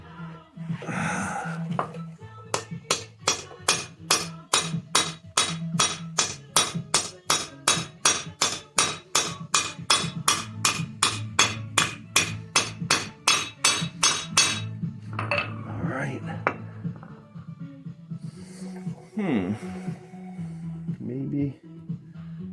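A hammer drives a universal joint cap on a 1997 Jeep Wrangler's front axle: about two dozen sharp metallic blows in a steady, rapid rhythm, loud and close. The strikes stop, followed by some quieter handling noise.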